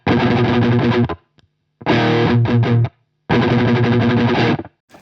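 Heavy distorted guitar chugs through a hard noise gate in three bursts, each cut off abruptly into dead silence between them, loud and close.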